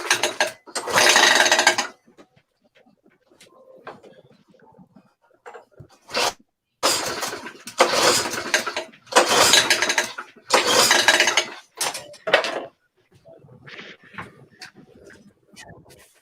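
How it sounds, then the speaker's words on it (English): A small engine is pull-started in several loud, sharp bursts of about a second each, separated by quiet gaps, with a few briefer sputters and soft mechanical clatter in between. "You're gonna see that engine just take off like a helicopter."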